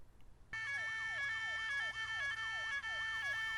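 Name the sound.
building fire alarm sounding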